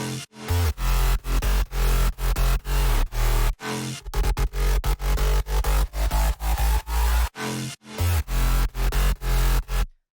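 Distorted synth stabs with the low end cut in a bass house track made in FL Studio hit in a loud, tight rhythmic pattern of short chopped chords with brief gaps between bursts.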